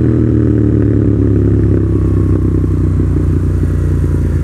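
A Yamaha FZ07 motorcycle fitted with new tires and a fuel controller riding down a small road, its engine drone and wind rush loud, close and unbroken throughout.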